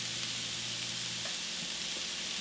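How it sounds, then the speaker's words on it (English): Meat sauce with onions for spaghetti sizzles steadily in a pan, a constant bright hissing crackle with a low hum beneath, fairly quiet and uninterrupted. "this is frying up real nice, as you can see"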